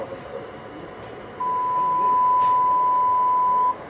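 A steady 1,000 Hz test tone played through an EVOX 2 3000.1 mini amplifier starts partway in and holds loud and unbroken for about two seconds over background noise, then cuts off.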